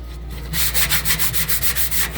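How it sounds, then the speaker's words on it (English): Rhythmic sanding strokes rasp back and forth at close range on the painted metal roof inside a microwave oven, a steady series of about a dozen scrubbing passes with no voices. "The roof, it doesn't seem that bad, but I'm still sanding it."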